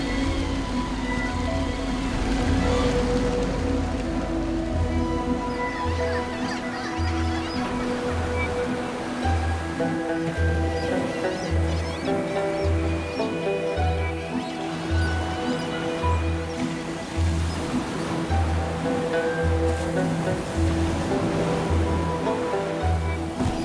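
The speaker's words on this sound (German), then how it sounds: "Starker Wind weht über die offene See." Strong wind drives waves across the open Bering Sea around a fishing vessel, a steady loud roar of surf and rushing water with a rhythmic low thumping throughout, no voices.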